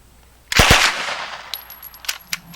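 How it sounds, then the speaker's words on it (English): A PPS-43 submachine gun fires one short, loud burst of several rapid shots, followed by a fading echo and a few light metallic clicks. "the PPS-43 fired without a hitch"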